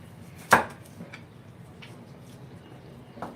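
A knife slices carrots on a cutting board with one sharp chop near the start and a few faint taps after it, in a quiet kitchen.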